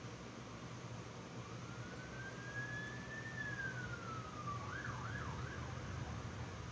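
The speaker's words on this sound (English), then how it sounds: "there were a bunch of cops going by outside" Police sirens passing outside at a distance, a faint wailing tone that rises slowly, falls, then breaks into a quicker yelp pattern over steady background hum.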